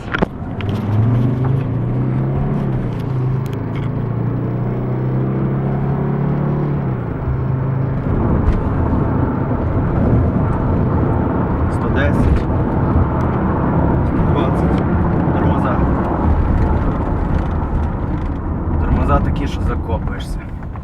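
A 2003-era Mercedes-Benz E270 CDI W210 diesel sedan picks up speed on the road, its engine drone swelling and shifting through gears as a steady rumble, with someone talking over it inside the cabin.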